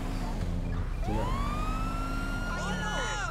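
A police car siren from Grand Theft Auto V wails loudly and continuously, its pitch sweeping up and down over steady engine and traffic noise, with voices talking faintly underneath.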